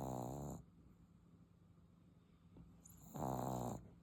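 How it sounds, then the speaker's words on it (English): An English bulldog puppy snores loudly and close by, two long rasping snores separated by a quiet pause of heavy breathing. "snoring super loud."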